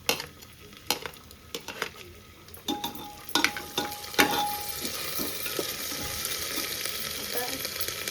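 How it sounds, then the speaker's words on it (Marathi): Crushed green chillies hit a hot pan of oil while cooking aloo pulao, giving a steady close sizzle with scraping stir strokes and light utensil clinks against the pan. "आता मिरची जी ठेचून घेतलेली ती मी टाकली"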